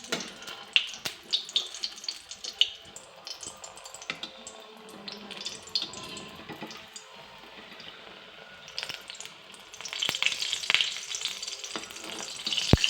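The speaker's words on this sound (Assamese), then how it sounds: "আমাৰ তেলখিনিতে গৰম হৈ গ'ল। মই দি দিম মালপোৱা বনোৱাখিনি ময়দা মৰা।" Malpua batter fries in hot oil in a wok, a soft crackling sizzle with scattered sharp pops that swells louder and busier toward the end.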